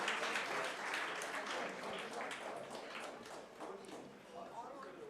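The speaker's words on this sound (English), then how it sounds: "Big round of applause for this Best Educational Society Award" A crowd at an education convention awards ceremony in Goa applauds the Best Educational Society Award, a faint, continuous patter of clapping with voices heard over it.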